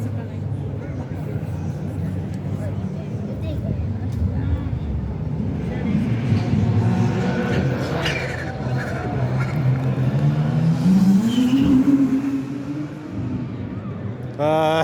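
A Cadillac hypercar from the 24 Hours of Le Mans runs through the town-centre parade, its engine note rising as it passes close by, with crowd noise and talk throughout.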